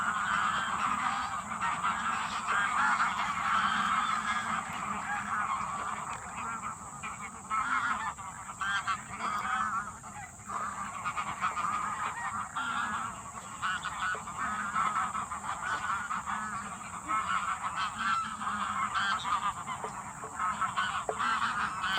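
A large flock of bar-headed geese at Bharatpur bird sanctuary honks without pause, a dense, overlapping chorus of nasal calls that holds steady for the whole stretch, with no voices.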